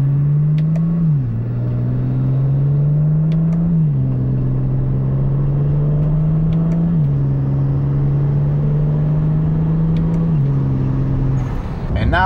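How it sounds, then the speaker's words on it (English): BMW 335i with automatic transmission and XHP tune shifting up through the gears, the steady engine drone dropping in pitch at each upshift four times across the run, loud and close with no talk. "These are upshifts right here."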